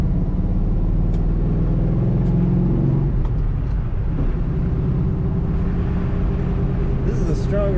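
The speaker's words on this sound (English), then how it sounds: "This is a strong running Nova." A 1970 Chevrolet Nova drives on a dry winter road in Minnesota, its engine and road noise forming a steady low rumble inside the car, with a voice talking over it.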